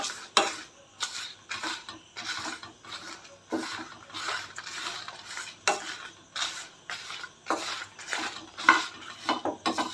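Dried chilies and flax seeds dry-roasting in a pan, rhythmic bursts of scraping and rattling as a spatula stirs them, repeating every second or so at close range, no voices.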